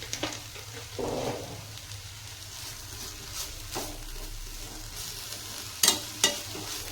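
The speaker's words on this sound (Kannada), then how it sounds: "ಈಗೊಂದು ಅರ್ಧ ಸ್ಪೂನಷ್ಟು ಜೀರಿಗೆ ಹಾಕೋಣ್ರಿ." Cumin seeds sizzle and crackle in hot oil in a pan while making ridge gourd chutney, a soft steady frying hiss broken by a few sharper spatters and stirring scrapes near the end.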